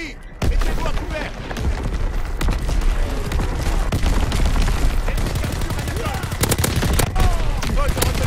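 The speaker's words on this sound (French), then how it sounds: "Tir d'artillerie ennemi." Enemy artillery barrage in Call of Duty WWII, with dense, continuous gunfire and booming blasts that keep up without a break for the whole stretch, loud and close.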